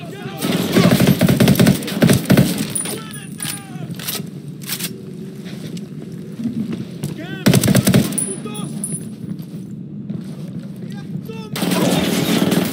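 Machine gun fire rattles in rapid bursts during a Ghost Recon Wildlands gunfight, loud and close, with shouted voices between the volleys and renewed firing at the end.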